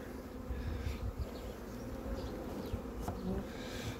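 A honeybee swarm hums in a dense, continuous buzz close up, steady and unbroken throughout with no talking.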